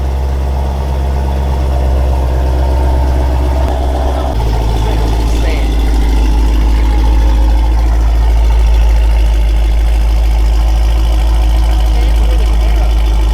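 A loud car engine fitted with high-flow headers and a stock exhaust idles with a deep, throaty rumble, jumping to a heavier, steadier roar partway through and holding there.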